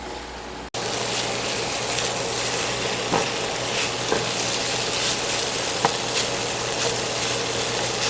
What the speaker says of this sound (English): I'm going to go ahead and finish sauteing this.